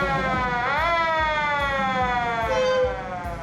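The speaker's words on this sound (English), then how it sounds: "John, can you do us a little siren?" A working Diamond T fire truck's siren wails loudly and steadily, its pitch sweeping upward once before holding a sustained howl that fades slightly at the end.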